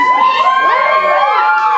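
A Dublin bar crowd at a live rock gig screams and cheers loudly, shrill overlapping shouts and whoops sweeping up and down for the full stretch.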